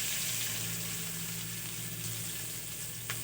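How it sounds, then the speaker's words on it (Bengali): Onions and five-spice seeds frying in hot oil, a steady close sizzle with a soft crackle that eases slightly, ending with a small clink of a utensil. "তেলের মধ্যে 5 ফোড়ন দিয়ে দিলাম, পেঁয়াজ কিছু দিয়ে দিলাম"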